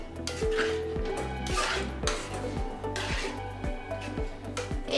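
Sev usal, a dried pea curry, being stirred in a pot with a metal spoon, giving a rapid series of close scraping and clinking strokes in an even rhythm with no talk.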